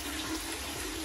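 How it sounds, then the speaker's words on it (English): Water runs steadily into a koi pond tank through a dechlorinator, a continuous broadband rush like a filling tap, close and even for about a second with no voices. "now I'm filling it through the dechlorinator"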